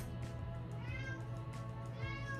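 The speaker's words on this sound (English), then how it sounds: "And my kitty is back." A cat meows several times in quick succession, the faint, drawn-out cries rising and falling over a steady low hum, with no talking.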